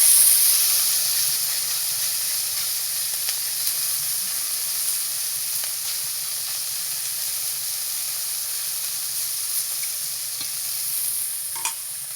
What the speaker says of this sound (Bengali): এই দেখতে পাচ্ছ যে মাছগুলো ভাজা করতেছি